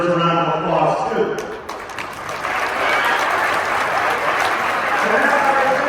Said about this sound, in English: I think that other gentleman who did it deserves a round of applause too